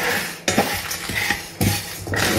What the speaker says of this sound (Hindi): पैन में ही थोड़ा सा चला लेंगे